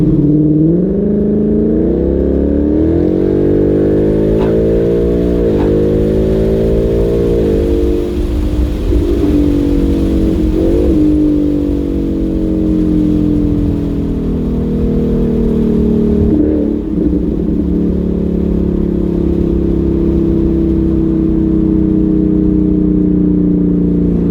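A 2019 Ford Mustang GT V8 with an AWE Touring cat-back exhaust revs hard through repeated gear pulls, the exhaust note rising in pitch, dropping at each shift, then climbing again, loud and close throughout.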